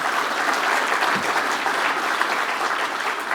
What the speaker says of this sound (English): Big round of applause again for Heidi